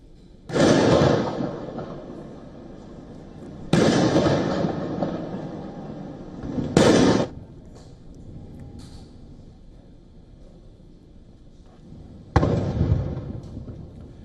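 Cannon blasts of a 21-gun salute at a ceremonial welcome in Malé, Maldives: four loud booming reports, spaced a few seconds apart, each decaying into a rolling echo, with no speech.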